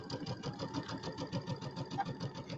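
A fast Dream Machine sewing machine stitching quilt pieces, its rapid even needle chatter running steadily and close throughout.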